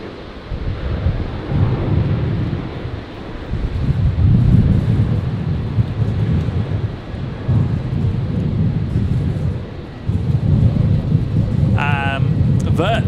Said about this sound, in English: Qantas 1029 just begun its roll on 19 left. The 737-800 heading down to Hobart in Tasmania.